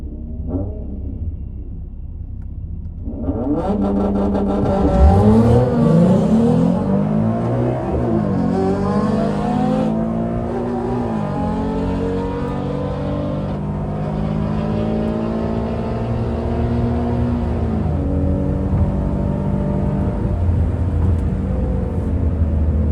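A 2014 Ford Mustang V6 engine roars up through the gears at full throttle in a drag race, manually shifted, revving hard with a steady loud rumble, the pitch climbing and dropping at each shift.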